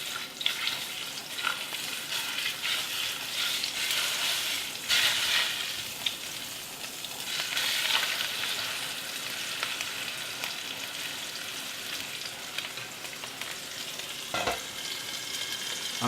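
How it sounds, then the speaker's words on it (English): A steak sears in clarified butter in a hot pan, a continuous loud crackling sizzle with bursts of spitting and a few sharp pops and scrapes, no talking. "So I'm just going to put a little bit of clarified butter in. And now the steak goes in."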